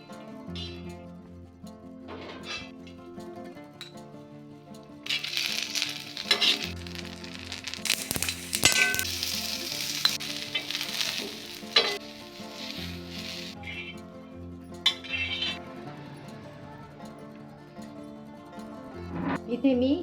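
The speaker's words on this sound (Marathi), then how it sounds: "आता आपण हे सर्व साहित्य भाजून घेऊयात। हे तीळ लालसर रंगावरती भाजून घ्यायचे।" Sesame seeds and spices dry roast in a pan for maswadi, giving a dry crackling sizzle with stirring scrapes and light clinks that grow louder midway, while someone talks over it.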